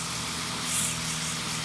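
Motor of a small power sprayer pump, rated around half to three-quarter horsepower, running on a farm with a steady low hum and a faint hiss of spray, moderately quiet and unbroken.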